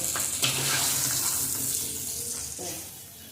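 Water runs from a kitchen tap while food is washed, a steady close splashing rush that tapers off slightly toward the end.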